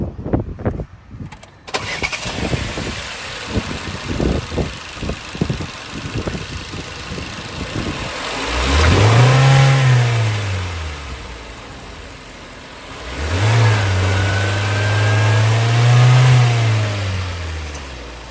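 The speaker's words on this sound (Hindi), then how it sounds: "आइए अब पेट्रोल इंजन की साउंड सुनते हैं।" A 2022 Hyundai Tucson Signature HTRAC petrol engine starts up, settles into idle, then is revved twice in rising and falling swells, heard close and clear.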